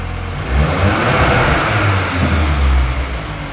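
A cold car engine idling at about 1300 RPM, a steady low mechanical drone with a smooth, slightly rising hum, heard close and loud without any talking.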